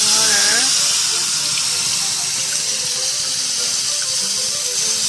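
Water pours steadily into a pan of gyoza frying in oil, a continuous hissing splash, fairly close and loud, and a voice briefly speaks at the start.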